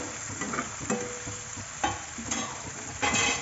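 A spoon stirs ridge gourd curry in a pan, producing a few distinct scraping knocks over a soft sizzle, close and fairly quiet with no talking.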